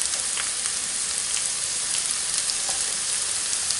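Ham dropped into a hot frying pan for a Spanish tortilla with wild greens sizzles steadily, a dense, even hiss throughout with faint crackles and pops, no talk.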